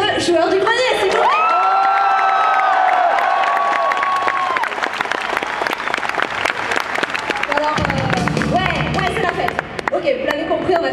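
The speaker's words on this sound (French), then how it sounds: "Vous pouvez applaudir le joueur du grenier, s'il vous plaît." Japan Expo 2012 convention audience applauding and cheering Joueur du Grenier on stage, dense sustained clapping with whoops and shouts throughout, loud and close, with voices of presenters and crowd mixed in.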